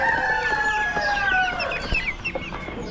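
Chickens at an Amish animal auction, including meat birds such as Cornish cross and Black copper Marans, cluck busily with a rooster crowing up close over a steady barn din.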